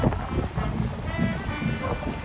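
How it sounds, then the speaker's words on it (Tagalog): Steady wind buffets the microphone by the sea during a fiesta on an island in Hagonoy, Bulacan, with a constant broadband rush and low rumble throughout. "Kahit na malakas ang hangin, malaki ang alon"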